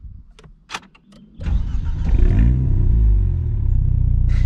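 An Alpine A110 sports car cranks and fires up after a few faint clicks, its engine catching with a loud rising burst and then settling into a steady, close idle.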